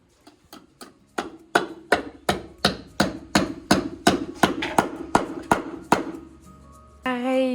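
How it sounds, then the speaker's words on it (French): Drive-in anchors are hammered into a stone wall during a renovation, with about twenty sharp, ringing hammer blows in a steady rhythm, each decaying quickly, and a brief different sound at the end. "On va remettre ici des chevilles à frapper dans le mur."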